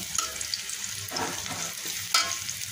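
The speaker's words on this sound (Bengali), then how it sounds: "চুলাতে পেঁয়াজ দিয়ে দিয়েছি, পেঁয়াজটা একটু ভেজে নিচ্ছি" Onions frying in a pan on a stove sizzle in a steady close hiss, with a couple of scraping stirs and a sharp utensil knock near the end, with no talking.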